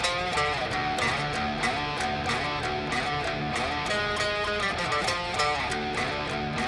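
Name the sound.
electric guitar opening riff of a song, Rocksmith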